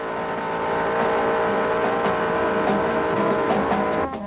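A 1969 Plymouth GTX with a 440 engine drives at about 50 mph, its loud, steady engine drone and road roar holding close throughout before easing off at the very end.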